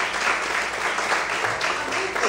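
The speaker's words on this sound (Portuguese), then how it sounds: "Mais forte as palmas, aleluia." A church congregation claps loudly during a sermon, a dense, steady burst of applause filling the room, with a little voice mixed in.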